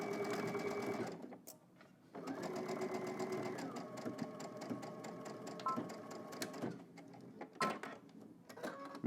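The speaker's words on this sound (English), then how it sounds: "we're just going to stitch all the way across using 5/8 of an inch seam allowance" A sewing machine stitching a 5/8 inch seam across a garment, giving a close, steady mechanical hum with fast rhythmic ticking that pauses and changes speed.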